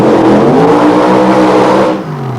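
A drag racing machine at the 1973 Santa Pod Internationals roaring loudly at full power with a harsh, steady engine note, then dropping off abruptly as it winds down, heard alone without talk.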